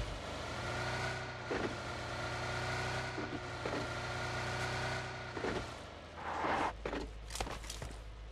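A car engine from the game PUBG Lite hums steadily, mixed with footstep-like thumps and a rising rev near the end, with no talk.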